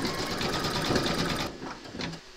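An embroidery machine stitches an in-the-hoop cuddly penguin's orange beak, a fast, steady mechanical whirring and rattle that runs loud and close, then cuts out about halfway, leaving quieter clicks.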